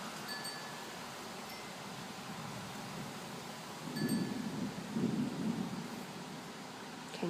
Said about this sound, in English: Can you hear the thunder?